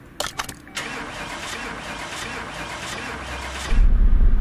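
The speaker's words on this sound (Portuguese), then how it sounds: "Motorzão montado e funcionando." A rebuilt V8 engine in the video game Car Mechanic Simulator 2018 cranks with a few sharp clicks, fires up and settles into a steady idle, then swells into a louder, deeper rumble at the end.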